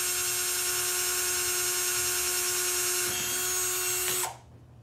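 A power drill drilling a hole in a leather belt whines at a steady high pitch, runs continuously, then winds down and stops near the end.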